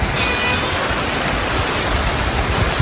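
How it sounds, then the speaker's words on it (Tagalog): Steady, dense rain falling and pattering on surfaces, a continuous close hiss with no voices. "Ang ulan"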